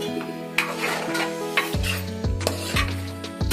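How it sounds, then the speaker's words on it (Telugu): Ginger garlic paste frying in a pan for a Telangana-style mutton curry, with close, rhythmic scraping of a spoon against the pan over a constant sizzle, the strokes recurring every second or so. "మనం అల్లం వెల్లుల్లి పేస్ట్ చేసిన తర్వాత అడగంటకుండా కలుపుతూనే ఉండాలి"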